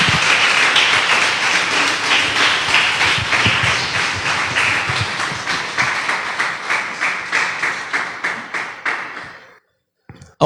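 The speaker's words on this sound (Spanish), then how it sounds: "Vamos a dar un fuerte aplauso a nuestro Dios." Loud congregational applause at a church service fills the space, then settles into rhythmic unison clapping that gradually fades before ending abruptly near the close.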